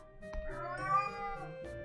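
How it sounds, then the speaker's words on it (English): A cat meows in a single drawn-out, wavering cry, close and fairly clear, with a brief low thump at the start and another near the end. "Cat."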